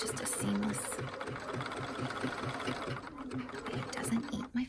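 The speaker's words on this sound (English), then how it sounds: "And I'll lift my presser foot and just feed my piece right in there." A sewing machine runs steadily while stitching knit fabric, its rapid even mechanical chatter up close, slowing briefly near the end, with someone talking quietly over it.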